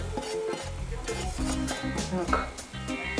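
Onions and carrots frying in oil for plov being stirred over high heat, a busy sizzle with scraping and clattering stirring strokes, under background music.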